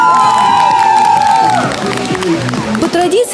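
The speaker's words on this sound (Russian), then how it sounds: "Накал страстей кипел не только на поле, но и среди болельщиков, горячо переживавших за успех своей команды" Fans at a company sports day cheer, shout and whoop for their teams, a loud crowd roar with voices rising over it throughout.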